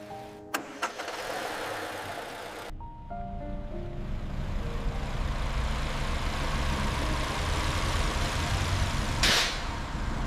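A car engine cranks briefly on a newly installed battery, catches and fires up, then settles into a steady, fairly loud idle that runs on alone.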